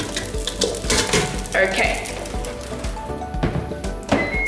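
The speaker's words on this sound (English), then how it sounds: "while that's still frying, I'm gonna start cooking my next pasta, which is the tubes" Pasta frying in a pan for pasta chips, a steady close sizzle with clinks and scraping as it is tossed, and a brief word spoken over it.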